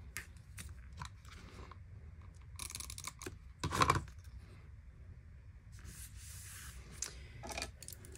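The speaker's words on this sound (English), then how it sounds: "Then I'm just going to take my scissors and trim." Soft, close snips of scissors trimming stiff paper card, irregular cuts spaced over several quiet seconds.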